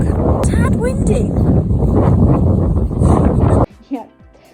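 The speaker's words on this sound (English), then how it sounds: "it's gonna get windy for the next 3 or 4 seconds" Strong wind on a rocky shore buffets the microphone with a loud, continuous low roar that cuts off abruptly near the end, followed by a brief voice.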